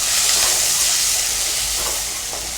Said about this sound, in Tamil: வெங்காயம் பூண்டு இது வந்து நல்லா வதக்கிக்கோங்க